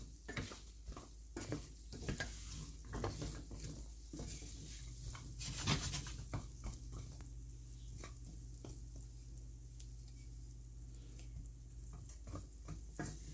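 Pecans scrape and rattle as they are stirred in a hot pan while toasting, with repeated sharp stirring strokes over a soft, steady sizzle; close and fairly quiet, no talking.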